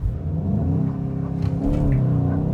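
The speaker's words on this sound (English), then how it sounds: "it makes nice pops and sounds from the exhaust" A 2025 Volkswagen GTI hot hatch launches hard in sport mode, its engine revving steadily and loud with a continuous close rumble and faint crackles from the exhaust, no talking.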